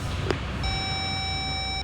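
Electronic phone tone after a call is cut off, a steady sustained beep heard clearly over low background rumble, lasting most of the short moment with no talk.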